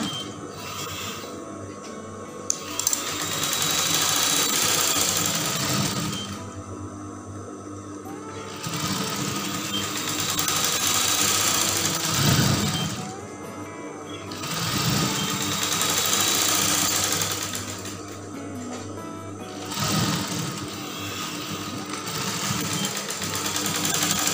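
Sewing machine stitching a mermaid dress, running in long steady bursts of several seconds with short pauses between them, loud and close, rhythmic mechanical whirring throughout.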